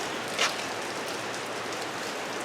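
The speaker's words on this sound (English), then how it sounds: "It's raining pretty profusely here." Steady rain falls outside a workshop where a 1953 Chevy truck is being worked on, a soft even hiss with one brief brighter patter, no voices.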